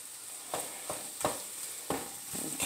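A sausage, potato, egg and cheese scramble sizzles steadily in a hot pan, with a constant hiss broken by several soft scraping stirs at irregular intervals.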